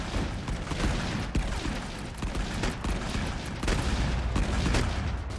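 Heavy video game gunfire crackles in a dense, continuous fusillade, with sharp louder shots punctuating the barrage throughout.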